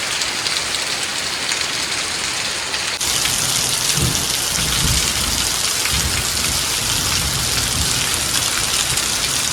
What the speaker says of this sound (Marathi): थोडा थोडा ना गडगडत आहे पण.